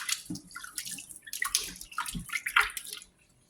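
Raw pork stomach is washed in water, with close splashing, sloshing and dripping in uneven bursts for about three seconds before the sound stops abruptly, and no talking.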